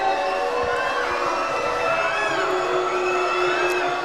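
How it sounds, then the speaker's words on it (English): A basketball crowd at a Southern Utah Thunderbirds men's game makes noise as an opposing player shoots free throws; loud, constant arena roar with shouts and whoops carries throughout, with no clear speech. "Thunderbird crowd makes some noise"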